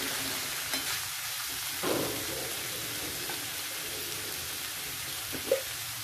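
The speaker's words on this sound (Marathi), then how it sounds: "हे सुद्धा आपण चांगलं परतून घेऊ।" Potato and tomato sauté with cowpea pods in a pan, giving a soft, steady sizzle with a few faint utensil scrapes and clicks; quiet and continuous, with no talking.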